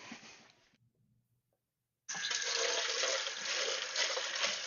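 Water from a tap runs while something is rinsed: a brief stream cuts off, then after a short quiet it restarts as a loud, steady, close rush with no talking.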